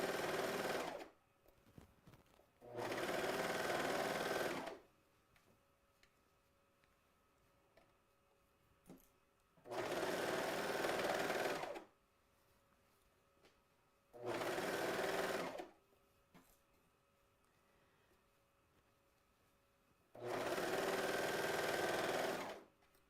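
A sewing machine runs in five separate bursts while stitching the crotch seam of a pair of pants, each burst lasting about two seconds with quiet pauses between them. The stitching is steady, near and loud, and no one speaks.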